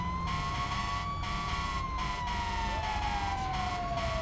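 Wailing sirens from county fire trucks arriving at a big house fire in a video game, several overlapping tones sweeping and pitch-shifting continuously, loud and close for the whole stretch.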